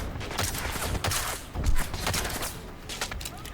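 Turret fire in the video game Deus Ex: Mankind Divided comes as a dense, continuous rattle of rapid shots and impacts, loud and close, with no speech over it.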